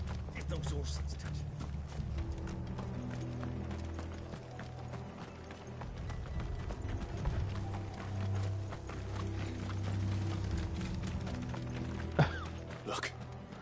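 Horses' hooves clip-clopping in Final Fantasy 16, a rhythmic mechanical clatter of gallops under steady game music, with voices talking over it in German.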